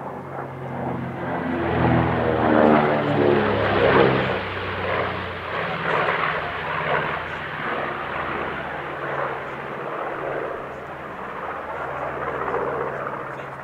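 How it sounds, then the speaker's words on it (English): A B-25 bomber roars through a lively airshow display, its piston engines and propellers droning loud and steady throughout, swelling and easing slightly as the aircraft passes. "This is a very sprightly display for a bomber."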